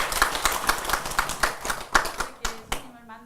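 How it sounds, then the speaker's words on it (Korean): An audience at a Buddhist temple question-and-answer dharma talk claps in a quick, even run of sharp handclaps for a few seconds, then stops as a voice briefly starts. "네, 박수로 하세요."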